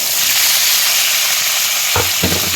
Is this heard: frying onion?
yes